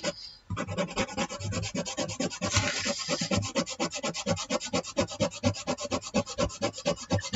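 A scratch card is scraped over and over, making a fast, rhythmic rasping scrape that repeats steadily for several seconds, close and fairly quiet with no talking.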